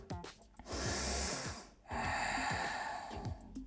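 Deep yoga breathing during a hip-focused session on mats: two long, loud breaths in and out, each lasting over a second, with a short pause between them and no talk.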